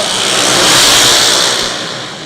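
Race car engine revving in a short loud burst, a buzzing roar that swells to a peak and then eases off slightly, close and without voices.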